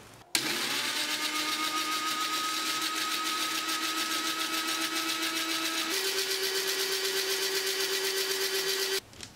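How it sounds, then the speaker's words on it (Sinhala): A kitchen blender runs continuously, mixing sugar and oil for a date cake batter, with a steady whirring motor hum that shifts pitch slightly midway before switching off, close and loud with no talking. "අපි දැන් මේ ටික බ්ලෙන්ඩ් කරගමු."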